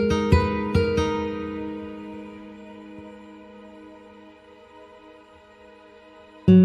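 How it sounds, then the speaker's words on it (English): Heavyocity Foundations Nylon Guitar virtual instrument with the sustain pedal held, a few plucked notes left ringing over a soft synthetic sound design pad that slowly decays, then a fresh note near the end. "you can hear the kind of synthetic sound design layer in the background"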